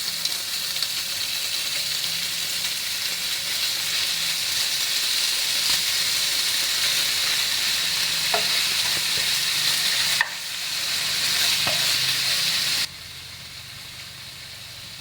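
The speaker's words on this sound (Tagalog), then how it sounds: "Igisa natin ang tuwalya ng baka." Beef tripe sautéing with onions in a pan for kare-kare, a steady loud sizzle and hiss of frying that continues without pause, with a few faint clinks from stirring, and the sizzle drops noticeably near the end.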